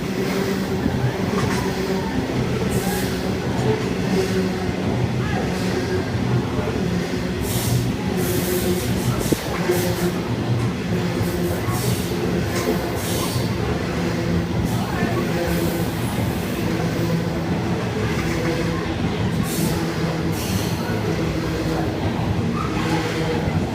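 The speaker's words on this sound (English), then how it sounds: "It's a loaded coal train." A loaded coal train rolls steadily past at Cheltenham, giving a continuous heavy rumble with rhythmic wheel clatter and squeal for over twenty seconds and no break.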